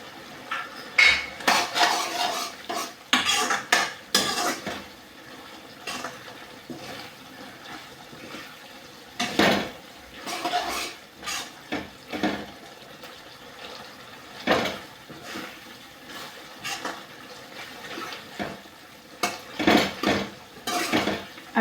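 Dhemse (round gourd) curry with crushed peanut powder stirred in a pot, giving intermittent metallic scrapes and clinks of a spoon against the pan, close and moderately loud, with no talk.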